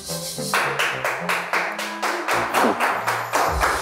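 A small group claps in a steady rhythm, about a dozen crisp close claps in under four seconds over a background of music, with no talking.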